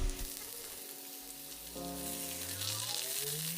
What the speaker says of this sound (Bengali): আর এটিও লাল করে ভেজে নেব